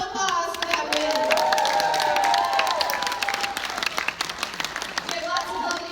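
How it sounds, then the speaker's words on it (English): Crowd applauding a People's Choice costume contest winner at a Retro Weekend Halloween convention, steady dense clapping for about six seconds with voices chattering and calling out over it. "Give them a round of applause for that win."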